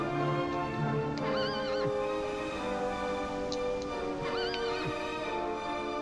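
A horse in the video game Dragon Quest 8 neighs twice, each a wavering whinny, over a steady musical background with a few soft hoof clops.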